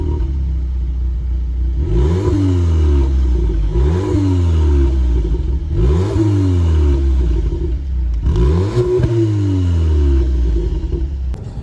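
A 2018 VW Polo GTI accelerates hard through repeated gear changes, its engine note climbing and dropping four times in a row, loud and close with a deep droning rumble.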